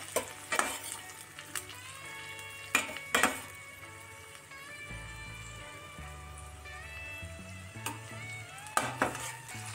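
Tomatoes sizzle steadily in a hot pan while a utensil scrapes and clinks against the metal now and then, close and moderately quiet.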